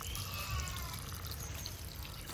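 Water pours steadily like a small waterfall in a home garden, a continuous low splashing rush heard close by with no voices.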